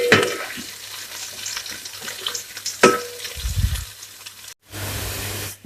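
Two finely chopped onions go into hot oil for mutton rice and fry with an uneven crackling sizzle and stirring. A loud burst of running water cuts in near the end.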